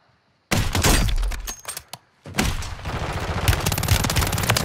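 Bursts of gunfire crack and rattle through a shooter video game's Plunder mode, loud and close, with a short pause midway before dense, sustained firing resumes alongside shattering debris.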